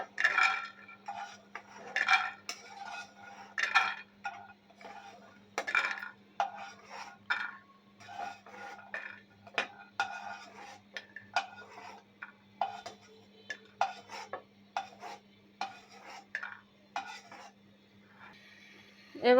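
Fried peanuts are scooped out of a pan, with repeated close metallic scrapes and clinks of a spoon against the pan in an uneven rhythm, with no talk.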